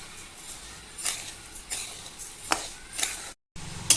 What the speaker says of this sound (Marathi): तांदूळ पण आपण छान बारीक गॅसवरती भाजून घेणार आहे